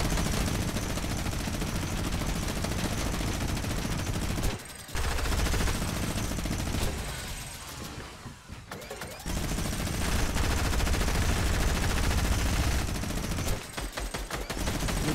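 Dense, sustained automatic gunfire in a competitive Fortnite match, loud and continuous bursts with brief pauses and a short lull before firing resumes.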